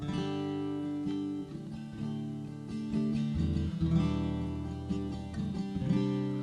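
Strummed acoustic guitar chords ring out in a smooth, sustained progression, changing every second or so with no voice over them.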